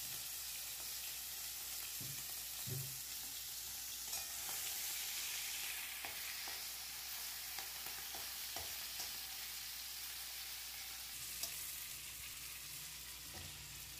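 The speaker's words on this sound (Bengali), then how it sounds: "নুন হলুদ মেখে রাখা চিংড়ি মাছটা ভেজে নেব।" Salt-and-turmeric marinated prawns frying in hot mustard oil, a steady bright sizzle with occasional soft pops and faint stirring clicks, close and continuous with no talking.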